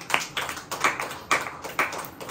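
A sermon audience claps in unison, five crisp, evenly spaced hand claps in a steady rhythm, loud and close, with no talking.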